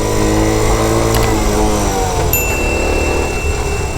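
A Honda Transalp motorcycle idles close by with a loud, steady, harmonic engine drone. Its pitch shifts a little partway through, and there is no talking.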